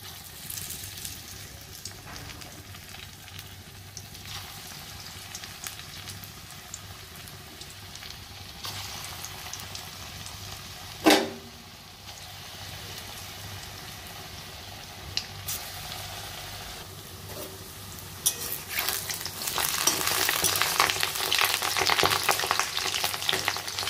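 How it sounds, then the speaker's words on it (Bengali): Fritters (bora) frying in hot oil make a steady, soft sizzle that continues throughout, with a brief louder clatter near the middle and the frying growing brighter and louder toward the end. "তেল আমার গরম হয়ে এসছে, এবার বড়াগুলো দিয়ে দিই।"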